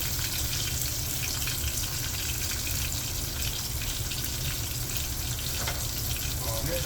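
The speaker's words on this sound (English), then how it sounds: "Fry it up." Liver fries in a pan with a steady, loud, hissing sizzle that fills the whole stretch, continuous and close, with no talking.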